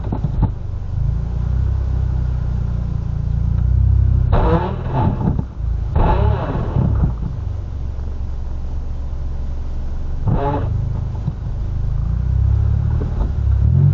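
A manual car with a broken first gear launches without the clutch, its engine rumbling low and steady, then revving in a few short, sharp bursts before settling back to a lower growl.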